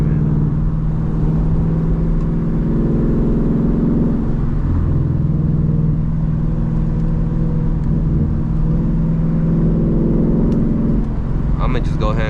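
Ford Mustang GT engine droning under acceleration on a drive, a steady loud rumble that swells and eases, with someone talking over it throughout.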